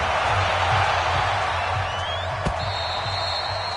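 A packed stadium crowd roars in an NFL football video game at a Denver Broncos home match, a dense, steady wall of cheering and applause with faint commentary mixed underneath.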